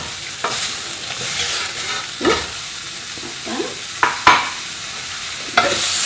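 Potato and celeriac sizzle in a pan for spiced celeriac soup, with scraping stirring strokes and sharp utensil taps against the pan over a steady frying hiss, close and without talk.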